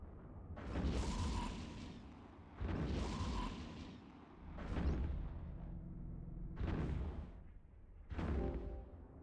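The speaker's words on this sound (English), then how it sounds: "Look at all the explosions." Fireworks-like explosions from the Eve Echoes space game burst one after another, five big booming blasts with crackling tails spread across several seconds, loud and close with no talking.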